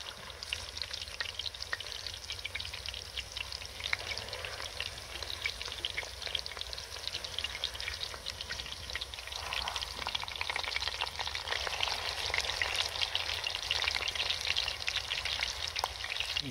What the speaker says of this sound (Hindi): दूसरी साइड से भी कबाब को थोड़ी देर के लिए फ्राई कर लिया